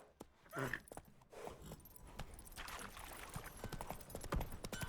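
Rhythmic hoofbeats of a horse galloping in The Witcher 3 on PS5, a steady clip-clop running throughout at moderate loudness with some background clatter.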